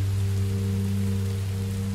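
Steady rain falling in the video game Minecraft: Story Mode, a continuous even hiss of rainfall with a constant low hum underneath, no talking.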